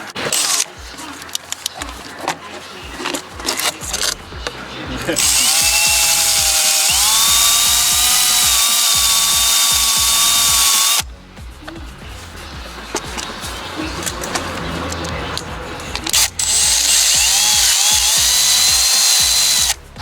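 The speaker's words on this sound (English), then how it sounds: "we're gonna clean those, the connections too with the wire brush while we've got access in there" A power wire brush scrubs the glow plug relay connections on a Ford diesel, with two long, loud whirring bursts of spinning bristles separated by quieter clicks and handling noises.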